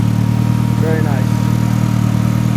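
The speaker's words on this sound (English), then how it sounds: "You can hear the cams. They're quite loud." A 1996 Nissan 200SX with a swapped GTIR engine and Garrett turbo idles loudly and steadily nearby, a low lumpy rumble with audible cam noise, and a voice speaks briefly over it.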